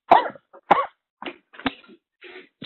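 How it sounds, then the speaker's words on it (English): A single person coughing hard in a short series, several rough bursts with brief gaps, close and loud, no talk over it. "Let me just cough out my lungs"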